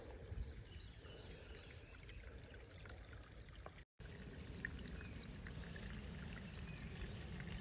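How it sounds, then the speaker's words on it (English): Water trickling from a small underground spring along a hiking trail at Oak Mountain State Park, Alabama, a soft steady babble heard close and alone, broken by a brief dropout midway. "Little underground spring."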